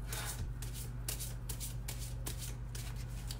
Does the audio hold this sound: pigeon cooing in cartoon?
no